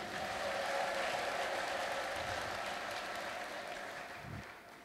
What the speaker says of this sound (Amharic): ለጌታ ለኢየሱስ ክርስቶስ እልልታ ጭብጨባ አምጡ።